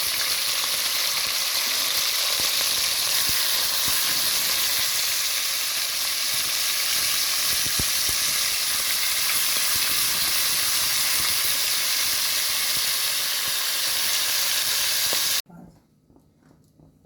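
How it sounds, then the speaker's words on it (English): Beef sears in a hot pot for a quick stew, giving a loud, steady, close sizzle and hiss that runs without a break, then suddenly drops to near silence near the end. "my beef has gotten that nice little sear, and I'm adding them back to the pot"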